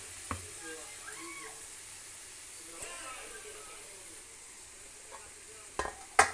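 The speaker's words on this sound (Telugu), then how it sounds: "మూత పెట్టేసుకొని టమాటా కాస్త మగ్గనిద్దాం" Tomatoes simmer and sizzle in a covered pan with a soft, steady hiss, broken by a few sharp clicks and knocks near the end; close and quiet, with faint talk in the background.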